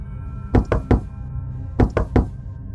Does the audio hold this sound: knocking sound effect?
yes